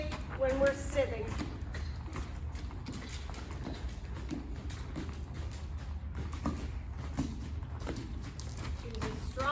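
Hooves of a mare being ridden in an arena thud and clop in a loose rhythm under the dull rumble of movement, with a voice talking over the footfalls.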